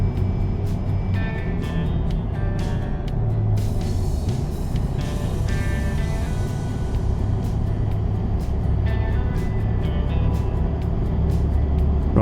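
A truck drives in American Truck Simulator with a steady, loud engine drone and road rumble, and faint clicks and light mechanical noises come and go above it.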